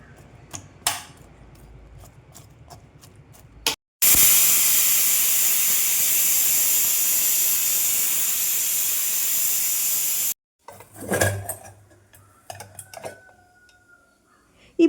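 A pressure cooker boiling jackfruit pieces with salt and turmeric lets out a loud, steady jet of steam for about six seconds before cutting off abruptly, with faint clinks and handling noises before and after.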